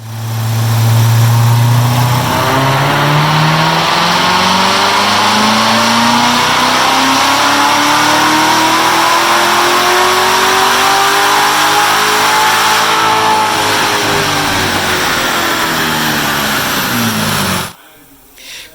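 A 2019 Chevrolet Corvette ZR1 engine revs hard on a dyno in a loud, sustained pull, its pitch climbing steadily and then easing back before cutting off sharply near the end.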